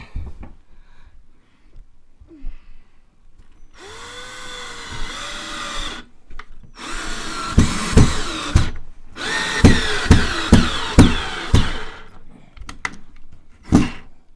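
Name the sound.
power drill driving bolts into a wall stud for a TV mount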